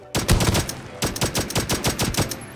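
Rapid automatic gunfire from the video game Counter-Strike, two sharp bursts of closely spaced shots, loud and close, with a short pause between them and no talking.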